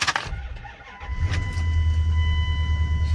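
A 20-year-old Dodge truck engine cranks briefly and fires up, settling into a loud, steady low idle close by after a few clicks and rattles at the start.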